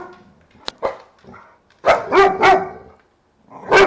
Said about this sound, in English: My little special dog.